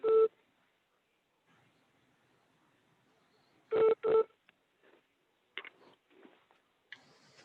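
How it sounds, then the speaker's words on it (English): Short telephone keypad tones ring out, one beep, then a quick pair a few seconds later, followed by fainter scattered clicks and blips in an otherwise quiet room. "Maybe you better call him on his cell phone, Alex."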